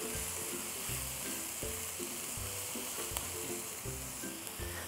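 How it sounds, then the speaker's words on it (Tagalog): Onions sauté in hot oil with a continuous crackling sizzle, interrupted by regular rhythmic scrapes and knocks of a spatula stirring the pan, close and steady throughout. "Igigisa ko lang yung sibuyas sa mga 30 to 35 seconds."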